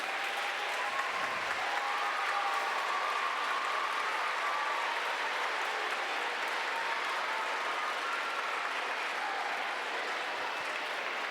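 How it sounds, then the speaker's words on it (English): Audience at an elementary school music festival gives parents a long, sustained round of applause, an even wash of clapping from a large crowd filling the hall. "Will you please parents so we can give you a round of applause?"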